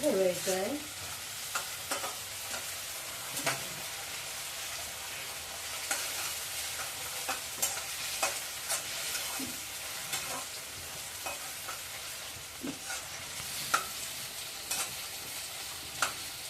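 Vegetables for hakka noodles frying over a full flame until golden: constant bright sizzling with a continuous scraping, stirring texture and small periodic clicks, close and steady without any voices.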